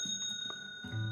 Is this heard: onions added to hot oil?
no